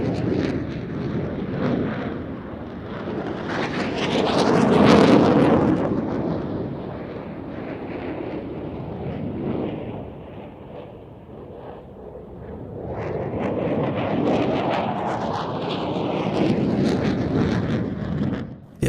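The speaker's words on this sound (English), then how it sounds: "It's starting to feel like the JF-17 is flying a low show" A JF-17 fighter jet performs at an air show, its engine a distant roaring rumble that swells to a loud pass, fades, then builds again, with wind buffeting in the open air.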